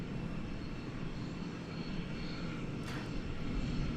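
Airliner taking off from runway 18 Left at DFW Airport at night, a loud steady jet engine roar spreading across the whole range, held constant throughout with no talk over it.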